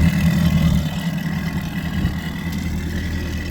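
A 2021 Mercury 250 ProXS outboard on a 2021 Ranger bass boat runs at a steady idle, giving a continuous close, low engine rumble with no talking over it.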